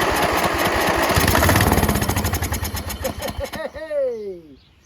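A Briggs & Stratton engine on a Craftsman LT1000 17.5 HP lawn tractor cranks over with a loud, rapid chugging that slows into separate putters before winding down with a falling whine, close by.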